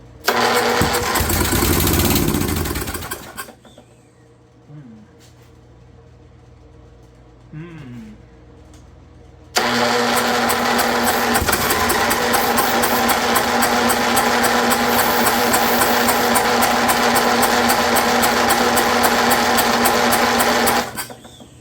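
An old Briggs 12 HP engine on a Snapper rear-engine rider, abandoned for years, cranked by its starter: a brief whirring crank, a quiet pause with faint sounds, then a long, loud, steady rapid churning that continues for about eleven seconds before stopping.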